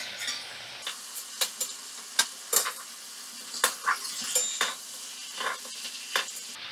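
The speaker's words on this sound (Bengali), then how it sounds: "মাছগুলো 2 মিনিটের জন্য আমি একটু ভাজা করে নিলাম" Medium prawns fry in a pan with a steady sizzle, broken by sharp scrapes and clatters of stirring spaced irregularly throughout, close and fairly loud.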